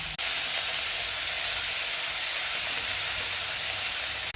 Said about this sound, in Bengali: মশলাটা রেডি করে রেখেছিলাম কড়াইয়ের তেলের মধ্যে দিয়ে দেবো